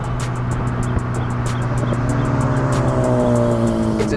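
A 2023-era Acura Integra Type S exhaust note, a steady, loud engine drone with rising harmonics as the car pulls, continuous through the whole stretch with faint clicks above.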